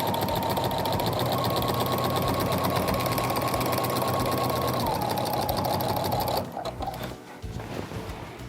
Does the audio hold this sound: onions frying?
no